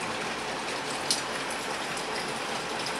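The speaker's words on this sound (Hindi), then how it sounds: "वो खिड़की बंद करने के लिए जो ही पास आया तो बारिश की बूंदें उसके कान से और बालों को" Steady rain falls near a window, a dense even hiss with one faint brief drip or tap standing out, and no voices heard.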